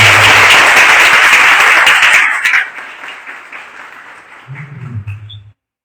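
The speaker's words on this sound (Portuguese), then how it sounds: "demos as nossas palmas a eles" Loud congregation applause at an Easter Vigil church service rings out for a couple of seconds, then fades into scattered claps and a low murmur before ending.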